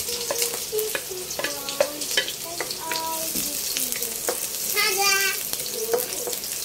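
Garlic and onion, added after tofu, sauté and get stirred in a pan, with a bright crackling sizzle, spoon clinks and scrapes, and a brief watery splash partway through.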